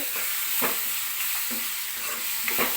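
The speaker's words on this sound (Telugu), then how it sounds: "అల్లం వెల్లుల్లి పేస్ట్ వేసుకుంటే ఏంటంటే అడుగంటుంది కదా" Ginger garlic paste fries in a pan for an egg and dried fish curry, a soft continuous sizzle with a few light stirring scrapes roughly every second, heard up close without talk.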